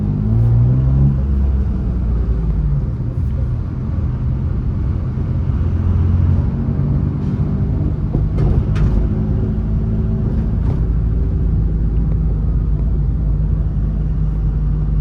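A Suzuki Alto creeps through Bangalore city traffic, its small engine a steady low drone with road rumble inside the cabin, occasional faint clicks and surrounding traffic noise throughout.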